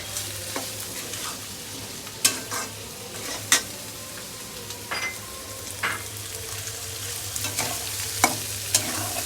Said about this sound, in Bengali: কিউব করে কাটা আলুগুলো দিয়ে দিচ্ছি।